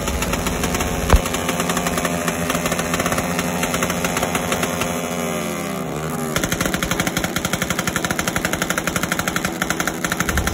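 Firecrackers and fireworks at a New Year celebration, a dense rapid crackling barrage with sharp bangs, close and loud, changing character midway into a steady rattling burst.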